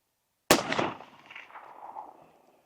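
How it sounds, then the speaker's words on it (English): A single loud, sharp report from a side-lever Fraser falling block rifle chambered in .450-300, fired outdoors at a 200-yard target, followed by a long rolling echo that fades over two seconds. "I missed him. Shot under him."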